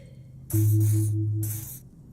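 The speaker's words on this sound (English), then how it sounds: "He doses you with odd-smelling spray, a double helping as you present your other armpit" Pheromone spray from the video game Disco Elysium, applied in two bursts: a loud hissing spray with a low humming tone under it, a short pause, then a second hiss fading out.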